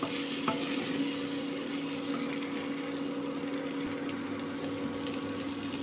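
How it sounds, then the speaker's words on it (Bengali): Capsicum and white sesame seeds stirred in a pan with a little oil, a steady close sizzle with a faint mechanical hum underneath and an occasional light scrape, no talking. "ক্যাপসিকামগুলো এই সময় অ্যাড করে দেবো, 1 টেবিল স্পুনের মতো সিজমে সিড বা সাদা তিল অ্যাড করে দিয়ে খুব ভালো করে নাড়াচাড়া করে নেব"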